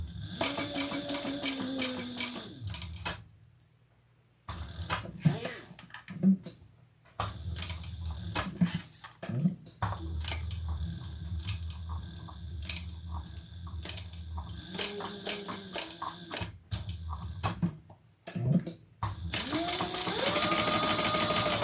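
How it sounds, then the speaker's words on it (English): Sewing machine basting around a wallet lining in bursts of rapid, close stitching separated by short pauses, steady mechanical whirring throughout. "I'm just going to baste all the way around because that wallet lining isn't sewn on"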